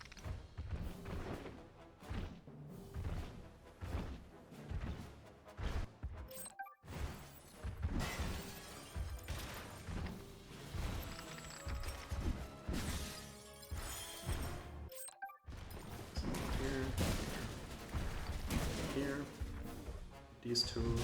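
In the Knack video game, missiles slam into tanks as a run of heavy thuds and crashing impacts piles up over busy game music, broken by a couple of brief silent gaps, while a player keeps talking.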